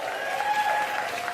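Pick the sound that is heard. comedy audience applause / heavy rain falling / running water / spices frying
comedy audience applause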